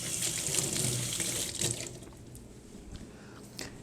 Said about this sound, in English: I like to give it a quick rinse, just to get any little bits of shell that are on there.